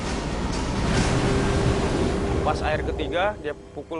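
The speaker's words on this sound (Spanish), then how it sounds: "una tercera ola aún más alta se aproxima" A powerful 2004 tsunami wave surges in as a loud, rushing roar of churning water, continuous and dense, with a voice speaking briefly over the noise toward the end.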